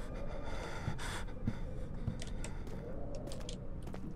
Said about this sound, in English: Dude's panting.